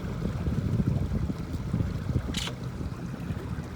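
A fishing boat's big outboard engine running on High Rock Lake, a low, uneven rumble churning steadily under wind and water noise, with a brief sharp hiss partway through.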